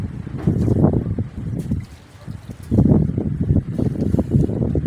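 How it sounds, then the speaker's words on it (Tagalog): Strong gusts of wind batter the microphone on a rooftop garden in heavy, rumbling bursts, easing briefly in the middle before surging back. "ang lakas pa rin ng hangin dito sa rooftop"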